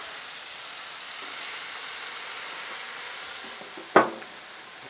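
Water hisses and steams steadily on a hot Blackstone 36-inch griddle cooking broccoli under a hood, with a brief clatter near the end.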